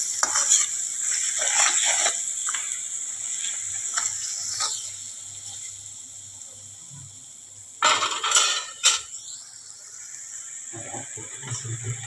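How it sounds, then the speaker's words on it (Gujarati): A spoon stirs coriander-cumin powder, salt and moong in a pan over low heat, making rhythmic scraping strokes in clustered bursts with a quiet gap midway, over a faint sizzle. "હવે બધું બરાબર મિક્સ કરી દઈશું, હલાવી દઈશું અને ધીરા તાપે આપણે તપવા દઈશું."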